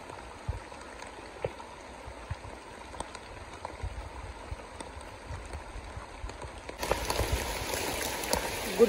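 Heavy rain pours around a tent in an Indian forest at night, a steady dense hiss with scattered drips that swells noticeably louder for the last couple of seconds.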